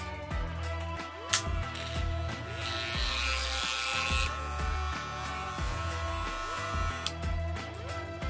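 An Andis T-Outliner hair trimmer fitted with an Omnicord upgrade runs steadily for several seconds with a close, continuous electric buzz and a few small clicks from handling, and no talking.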